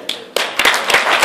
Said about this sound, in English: Clap if you agree.